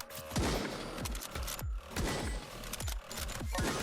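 Rifle shots fire in rapid repeated bursts in a roguelike video game, each punchy report with a booming low tail, a semi-automatic rhythm running throughout without speech.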